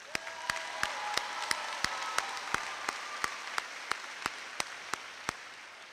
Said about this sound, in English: Let's hear another round of applause for Regina Puller.